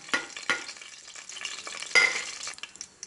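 Mustard and cumin seeds crackle and pop in hot oil, a few sharp spits standing out over a steady frying hiss, close up.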